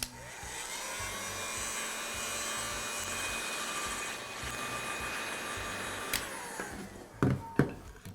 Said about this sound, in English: I'll use a heat gun to soften the adhesive so I can remove the cork.